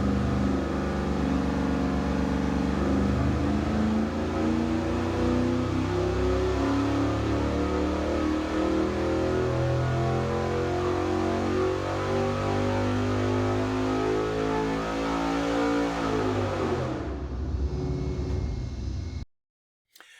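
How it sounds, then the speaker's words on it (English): A junkyard 5.3-liter V8 truck engine fitted with a hot rod cam revs loudly and steadily near the microphone with a lumpy idle character, its note dropping off before a sudden cut to silence near the end. "let's hear the motor"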